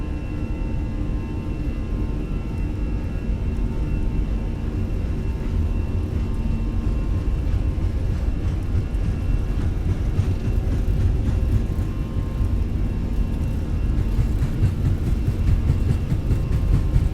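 Airbus A320 engines at takeoff thrust in Microsoft Flight Simulator 2020, a loud, steady jet roar with whining tones that holds constant and swells slightly toward the end, with no talk.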